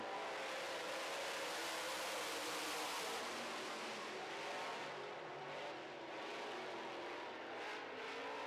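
Late model stock cars race on a short track at a heats event, a dense, continuous roar of several engines revving hard together at moderate distance, steady throughout with no voices.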